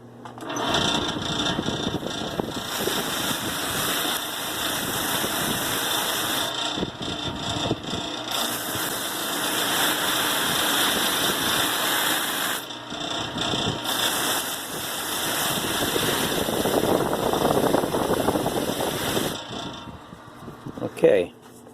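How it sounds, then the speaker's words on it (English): A Sand Flea drum sander buffs a wooden hand plane, its motor grinding and whirring in long bursts broken by brief pauses, then a sharp knock near the end. "take it over here to my sand flea, and I'm going to give it a little buffing up"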